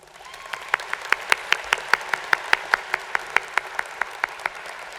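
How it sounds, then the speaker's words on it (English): An audience at a university commencement ceremony claps in a round of applause, starting quietly and settling into steady, fairly slow, crisp claps that ring through a large hall. "Would you give them a round of applause?"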